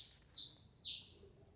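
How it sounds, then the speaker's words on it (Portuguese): Bird chirping sound effect in a read-aloud children's story: two clear high downward-sweeping chirps in quick succession, close and alone over faint background. "você quer comprar um passarinho, Roseli?"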